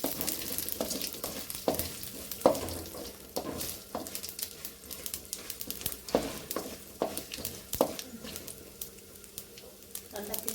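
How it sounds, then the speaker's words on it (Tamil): Mustard seeds crackle and pop in hot sesame oil, making a steady close sizzle scattered with sharp little spits and bursts that come irregularly throughout, fairly quiet, with no one speaking over it. "கடுகு நல்லா பொரியட்டும்."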